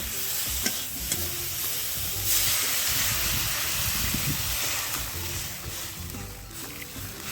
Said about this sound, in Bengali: এরপর পরিমাণ মতো জল দিয়ে দেব